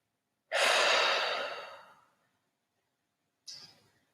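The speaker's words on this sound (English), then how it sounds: "Take a couple breaths here." A long audible exhale held during a yoga pose in a morning yoga class, fading out gradually, followed after a pause by a second, shorter breath; close and fairly quiet, with no talking.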